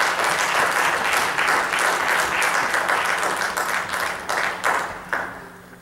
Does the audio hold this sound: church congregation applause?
yes